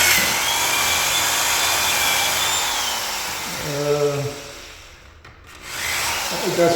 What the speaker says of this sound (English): I'm going to drill through the spacer that we made, the wedge spacer